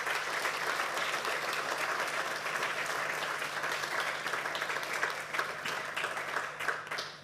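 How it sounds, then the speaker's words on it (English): Seminar audience at Rail Live 2026 applauds panel speakers: a sustained, fairly quiet round of clapping from a room of people, steady for about seven seconds before tapering off, with a low hum beneath. "Can we have a round of applause for the speakers, please?"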